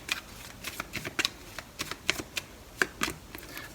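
Mini tarot card deck being shuffled at close range, a run of soft, quick riffling clicks and slaps in an uneven rhythm, quiet and alone with no talking.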